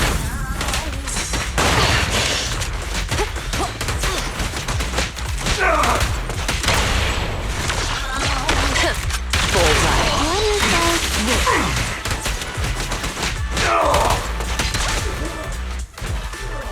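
A video game shootout rattles with rapid bursts of gunfire, crashing impacts and heavy thuds, loud and nearly continuous, with voices talking in between.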